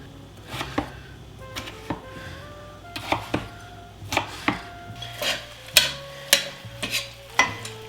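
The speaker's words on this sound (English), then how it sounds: "Right now I am going to cut up some potatoes to fry to put in the breakfast burritos." A knife chopping potatoes for frying on a cutting board gives a string of sharp, close, irregular knocks and thuds, about a dozen across several seconds, with light handling clatter between them and no talking.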